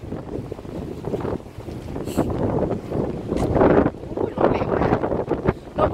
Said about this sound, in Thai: ลมก็ยังแรงอยู่นะ